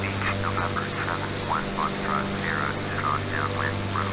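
Steady propeller aircraft engine drone in the FSX flight simulator on approach to a tiny Caribbean runway, a constant low hum with a speaking voice over it throughout.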